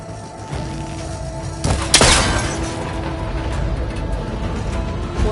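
A cable connector shot on a rickety ancient tower in Horizon Forbidden West, a sharp impact with a booming crash and brief shattering burst, then a rumbling mechanical tail under steady game ambience.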